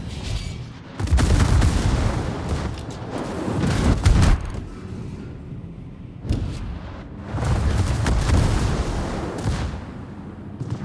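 Warship guns firing in the naval combat game World of Warships: heavy, booming salvos roll in long rumbling waves, loud and dense, with a brief lull between barrages and no voices.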